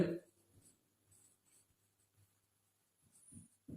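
A pen writes on paper while a math problem is worked out: soft, intermittent scratching strokes, close but very quiet, in short bursts separated by brief pauses.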